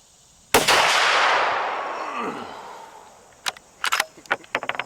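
Ruger American rifle in 450 Bushmaster fitted with a muzzle brake fires a single loud, close shot at an outdoor range, followed by a long rolling echo and then a few sharp clicks and knocks.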